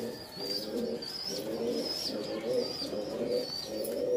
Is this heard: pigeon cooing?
yes